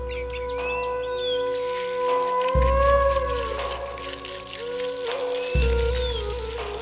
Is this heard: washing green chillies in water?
yes